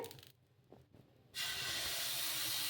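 Water is sprinkled onto a hot pan before pouring rava dosa batter. After a second of near quiet, a sudden loud, sustained hissing sizzle bursts out and holds steady.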